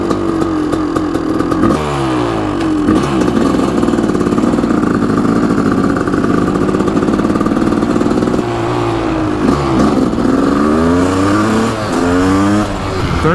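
Kawasaki KX500 big bore two-stroke engine in a supermoto build, loud and close, idling roughly then revving up and down in repeated rising and falling sweeps.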